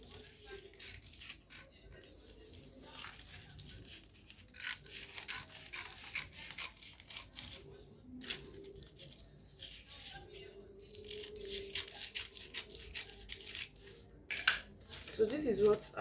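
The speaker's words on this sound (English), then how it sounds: "I'm also going to be cutting it out." Scissors snipping through ankara fabric while cutting out a keyhole yoke bustier gown, soft repeated cuts and rustling cloth running steadily under quiet background sounds.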